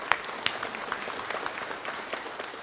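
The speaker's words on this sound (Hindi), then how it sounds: "जोरदार तालियां बजाइए राजेश जी के लिए" Audience at a Hindi Diwas kavi sammelan applauding the poet Rajesh Khushdil, fairly soft scattered clapping with a couple of louder individual claps near the start, steady throughout.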